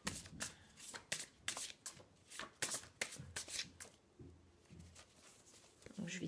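Oracle cards being shuffled by hand for a card reading: a quiet, close series of crisp riffling and slapping strokes in an uneven rhythm.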